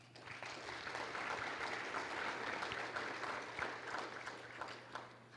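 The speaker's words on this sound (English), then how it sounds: "He deserves a round of applause." An audience at a cardiovascular symposium claps steadily for several seconds, a dense, moderately loud round of applause that tapers slightly toward the end.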